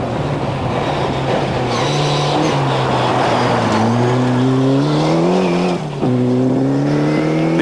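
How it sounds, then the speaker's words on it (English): A Cosworth rally car on a winter rally passes close by, its engine sounding rough as it revs and rises in pitch, loud and continuous with some tyre noise and a brief dip before pulling away. "That's another car that sounds a bit rough."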